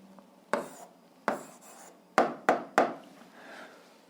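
Pen or chalk writing out an answer to an algebra exercise: five or six distinct, close tapping strokes with short scratchy tails, spaced irregularly, with no talk over them.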